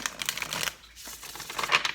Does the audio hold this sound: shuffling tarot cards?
yes